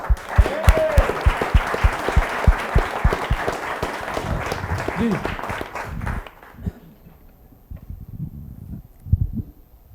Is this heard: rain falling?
no